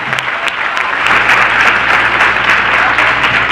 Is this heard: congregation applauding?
yes